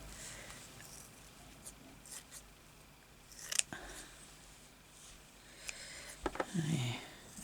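Scissors cutting a piece of textured material for a box project: a few sparse, close snips and crinkles, with one sharper cut near the middle and a short burst of handling near the end, under faint room noise.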